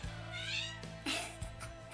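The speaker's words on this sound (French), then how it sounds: "si vous entendez la clochette ou des miaulements, c'est mon chat." A cat meows a few times, short rising cries close by, with a faint voice and light background noise.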